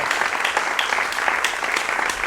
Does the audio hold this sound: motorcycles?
no